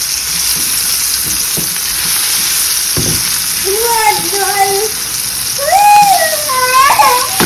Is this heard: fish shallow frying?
yes